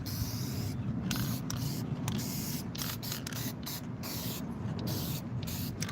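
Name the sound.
spray painting a masking tape Xenomorph Alien Queen model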